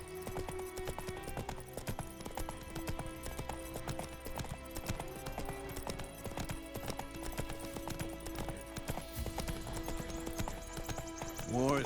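Horse hooves clip-clop in a fast, steady galloping rhythm in The Witcher 3, mixed with game music and other effects, with a neigh near the end.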